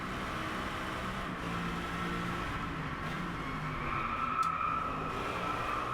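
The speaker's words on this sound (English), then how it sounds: "And exhaust, I would say, sounds a little bit better than the V12 Astons." A Mercedes SLS AMG Black Series in the Driveclub racing game, in sport mode on a Japan track, holds a steady close engine and exhaust drone with a faint tyre squeal partway through.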